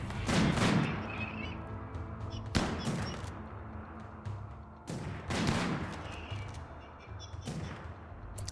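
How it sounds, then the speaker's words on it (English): Bursts of gunfire in the video game RimWorld, with a sharp volley starting the clip and further loud salvos recurring every couple of seconds over a continuous noisy battle backdrop. "If you see someone, go ahead and shoot."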